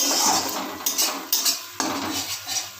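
Pointed gourd peels stirred with salt and turmeric in a pan, several sharp metallic scrapes and clinks of a spoon on the pan over a faint sizzle, close and fairly loud, no voices.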